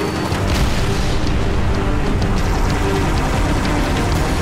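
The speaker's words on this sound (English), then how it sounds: "Acquiring signal lock on the pylon. Detonating in" A demolition charge detonating on a pylon in a shooter video game, a sustained, dense roar of explosion rumble that fills the whole stretch at a steady loud level.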